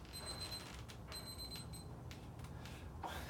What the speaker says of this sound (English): the alarm's just going off right now